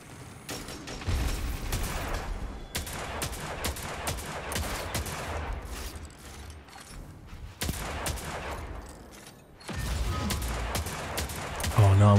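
Gunfire in Destiny Trials, a competitive player-versus-player match: rapid bursts and repeated shots crackle almost continuously over about twelve seconds, with short lulls between volleys and a busy mechanical game mix beneath.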